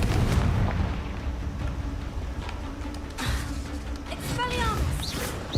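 Confringo fire-spell blasts in Hogwarts Legacy go off as repeated booming bursts in a dense, noisy game mix, with bright crackles near the end.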